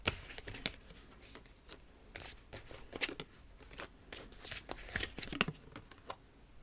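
Tarot cards are shuffled close up in quick, papery riffling bursts with brief pauses between handfuls, with no talk over them.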